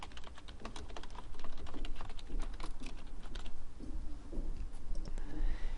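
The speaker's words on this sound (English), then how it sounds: "now we can type in a main title" Steady typing on a computer keyboard while a main title is entered for a budget project pie graph, with dense clicking keystrokes running throughout at moderate loudness and no talking.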